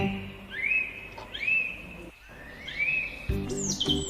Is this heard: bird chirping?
yes